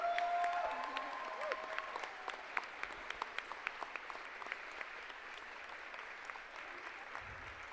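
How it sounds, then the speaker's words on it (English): Audience clapping at a TEDx Toronto talk, steady and sustained across the room, with a few sharper individual claps standing out near the end; a brief tone sounds at the very start. "so appreciate the clapping"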